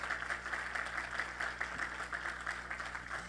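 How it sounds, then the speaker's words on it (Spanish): Steady applause from a church congregation during a sermon, a continuous wash of clapping at moderate level with no distinct individual claps standing out. "le da un aplauso al Señor en esta hora"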